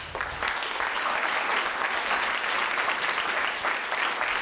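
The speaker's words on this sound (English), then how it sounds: "why don't we give a big round of applause to Gil?" Dense, continuous applause from a seated audience at a startup investor talk, welcoming a speaker named Gil onto the stage; a full even wash of many hands clapping at once, fairly close and steady with no speech.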